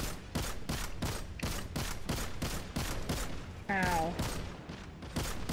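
Merciless weapon shots in Destiny ring out as a regular series of loud, sharp gunshots, about a dozen evenly spaced blasts, with a brief voiced exclamation partway through.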